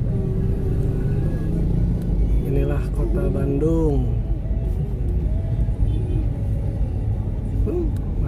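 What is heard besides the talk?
traffic jam at a red light in Cicaheum, Bandung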